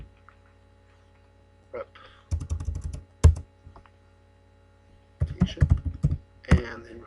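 Typing bursts on a computer keyboard while filling out a form in Microsoft Access: several quick clusters of clicks separated by pauses, fairly close, over a faint steady mains hum.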